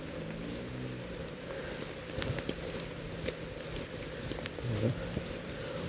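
Heavy rain pours steadily during a dark pre-dawn alms round as a monk walks without an umbrella, a dense continuous hiss with occasional louder drops and splashes close by.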